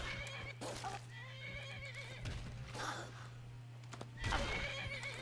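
A horse in the video game Skyrim whinnies several times, the neighs fairly close and set against low game ambience, with a few hoof clops between them.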